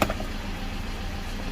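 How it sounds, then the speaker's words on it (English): A Toyota car with a fault that makes it shut off while driving idles with a low, steady engine hum, preceded by a brief knock at the start, with no talking. "The car is on"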